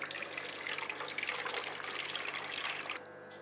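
Hot turkey stock being decanted, a soft steady trickling pour of liquid that runs continuously and then stops abruptly near the end, heard alone without talk.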